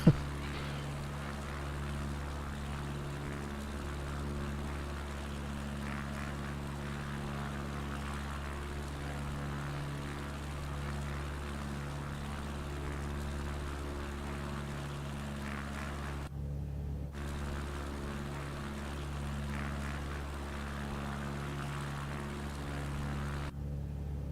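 A propeller airplane engine in Microsoft Flight Simulator 2024, on a bush flight in Alaska, drones steadily and evenly throughout with a low, constant hum, briefly cutting out twice.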